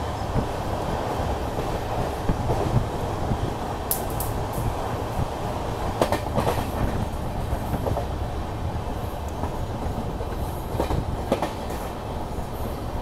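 The Secunderabad Duronto Express runs through a station without stopping, its wheels giving a steady rumble and clatter with occasional sharp squeals, heard from on board and close, with no talking.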